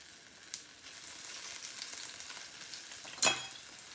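Pressed garlic sweats in olive oil in a pan, a soft steady sizzle close by, ending with one sharp clink of utensil on pan.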